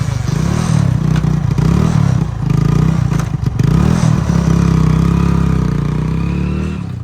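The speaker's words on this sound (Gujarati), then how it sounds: "ફટાફટ ચોક મારીને કરી નાખ્યું આપણું બાઇક ચાલુ" A motorcycle started with the choke on at a farm field runs loud and close, holding a steady rough idle with slight surges in revs throughout, with no voices.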